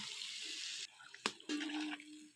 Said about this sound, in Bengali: পরিমাণ মতো জল দিয়ে